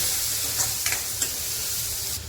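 A large chopped onion sizzles steadily in a pan as it sautés, with a constant frying hiss and a few soft stirring scrapes near and clear.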